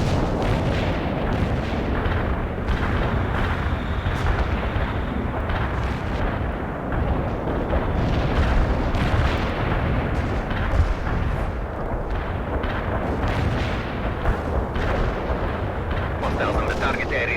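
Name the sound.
artillery strike explosions from a video game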